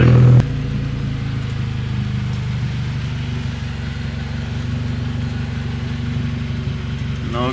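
A GR86/BRZ fitted with a Tomei Expreme Ti Type 80 titanium exhaust idles close by, a steady, deep low rumble with an even pulse after a brief louder blip at the start, no voices over it.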